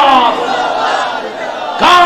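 A large crowd at a Sunni mass gathering roars a religious slogan in unison, a loud sustained chant that swells again at the end.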